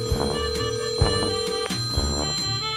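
A telephone bell rings steadily and insistently across the whole stretch, close and clear, with no talking over it.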